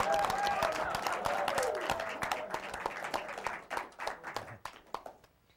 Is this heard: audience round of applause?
yes